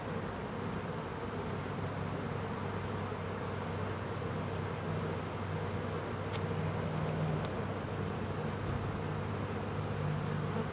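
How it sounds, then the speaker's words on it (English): Honeybees humming around a Layens hive while a second colony is added, a steady low drone of many insects that fills the whole stretch, with a couple of faint clicks and no talking. "the bees."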